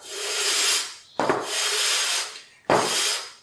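A fuel pump part from a 1962 AMC Rambler is rubbed on 600 grit sandpaper laid on a flat wooden top, making three long rasping strokes at close range with short pauses between them and no talking.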